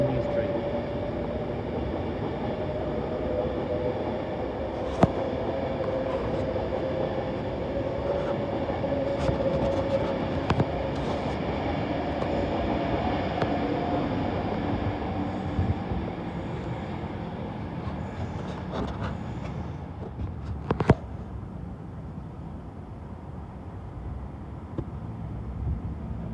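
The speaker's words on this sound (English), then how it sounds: "the 1843 Avanti West Coast service to Crewe via Birmingham New Street" An Avanti West Coast train to Crewe runs past Primrose Hill in London, a steady rumble and rolling hum carrying through the whole stretch with a few sharp clicks and wheel knocks.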